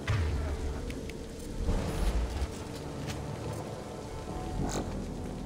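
Steady rain hisses and patters in the Mass Effect video game, a dense continuous wash with low rumbling swells, heard alone without speech.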